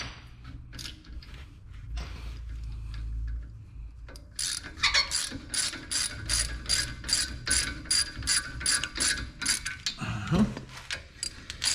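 A ratchet wrench clicks rapidly in repeated bursts while loosening the brake caliper bolts on a 2016 Honda Pilot, close and crisp, with a low rumble and a clunk near the end.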